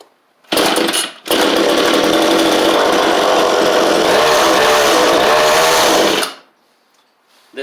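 A Homelite Super EZ chainsaw catches after a pull start, sputters briefly, then roars at a steady, loud, buzzing idle for several seconds before cutting off abruptly.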